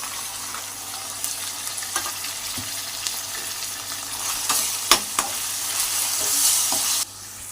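Tomatoes, coriander and green chillies hiss in a hot pan, the sizzle steady while a spatula stirs and clinks now and then; one sharper knock, and the sound cuts off near the end.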